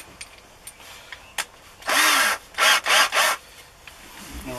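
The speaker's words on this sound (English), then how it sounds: "And we'll just use the rasp to make the hole bigger." Close, loud rasping bursts as a rasp enlarges a hole in a board: one long stroke followed by three quicker strokes, with small taps and knocks in between.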